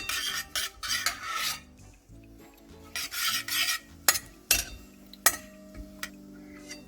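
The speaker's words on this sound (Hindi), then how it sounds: "घी मेल्ट होने के बाद हम लोग तिल डालेंगे" Sesame seeds are stirred in melted desi ghee in a pan with a spoon, giving rhythmic scraping rasps that come in bursts, followed by a few metallic clinks against the pan, close and without speech.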